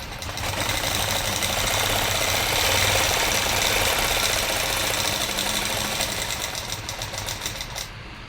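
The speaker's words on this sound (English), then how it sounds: "And I'm going to stitch." A sewing machine stitches a quilted border guided by an Aussie Made Swirls ruler, a close, steady whirring hum with a fast rhythmic needle beat running for several seconds, slowing slightly at the end, with no talking.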